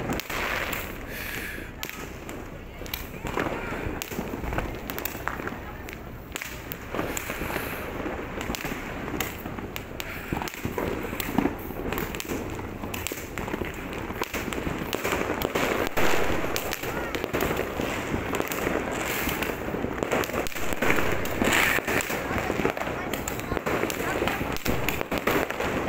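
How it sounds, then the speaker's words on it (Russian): New Year's Eve fireworks keep bursting and crackling in a dense, continuous barrage, loud and close, while excited voices shout over the noise. "Салюты!"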